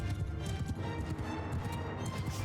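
Cavalry horses gallop across a battlefield in Mount & Blade II: Bannerlord, making a dense, rapid clatter of many hooves at moderate volume, continuous throughout.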